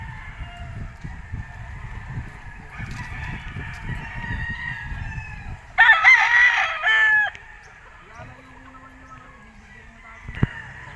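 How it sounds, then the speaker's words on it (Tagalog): A pure white Kelso gamefowl rooster at a game farm crows once loudly in the middle, over a background of other birds' calls and farm noise. "Class A na pure white kelso"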